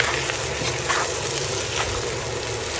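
Carrot, chayote and cauliflower for chop suey sauté in a hot pan, giving a steady, close sizzle with a few soft stirring scrapes and no talk.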